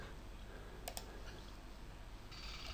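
Computer mouse and keyboard in use while drawing dimensions in Autodesk Inventor, with a couple of faint, quick clicks against a quiet background hiss.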